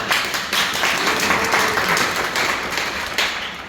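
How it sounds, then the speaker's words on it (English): A room full of people at a toastmasters club meeting applauds a final speaker, steady dense clapping that continues evenly throughout without a break. "Very brave, give a round of applause."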